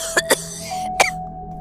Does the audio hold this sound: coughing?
yes